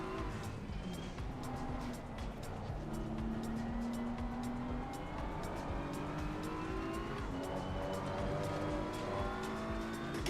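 Race cars in a racing video game, with a black McLaren approaching from behind: high engine whines rise and fall steadily, with occasional tire squeal, under a constant close roar.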